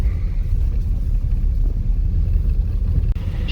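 A car drives along a busy road toward Guatemala, giving off a constant low rumble of engine and tyres from inside the cabin, with no talking.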